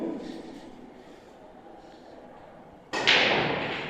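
A forceful billiard shot, a single sharp crack of cue on ball near the end after a quiet stretch of low room murmur.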